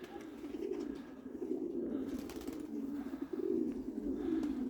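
Soft, steady cooing from a homing pigeon at a loft repeats in low, throaty phrases, close by, with faint ambient hiss and no talking.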